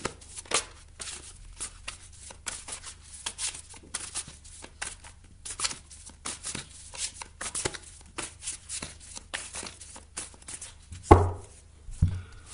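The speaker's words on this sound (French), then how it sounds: "Je mélange le jeu." A deck of tarot cards is shuffled by hand in repeated quick riffles and slaps, close and fairly quiet, with a couple of louder knocks near the end and no talking.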